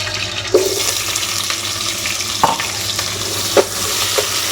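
Onions sizzle loudly in a pan for a country chicken (natukodi) curry, a continuous close frying hiss broken by a few sharp clinks and scrapes of stirring.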